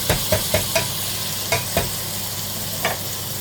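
Canned tuna is sautéed with onions in a pan, a steady close sizzle broken by a series of sharp, evenly spaced scraping taps as it is stirred and broken up.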